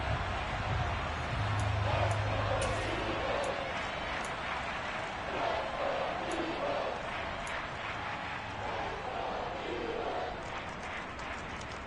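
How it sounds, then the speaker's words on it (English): Stadium crowd at a 49ers football game roaring and shouting steadily while watching an interception replay, a broad continuous wash of many voices with scattered louder cheers throughout. "Plenty of shouts from this crowd as they watch the replay"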